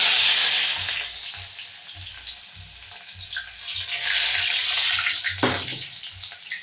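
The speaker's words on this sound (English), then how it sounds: "So I'm going to directly pour the onions and I'll start cooking." Onions poured into hot oil for an omena dish, a loud steady sizzle and crackle of frying that keeps going for several seconds, with a brief clatter near the end.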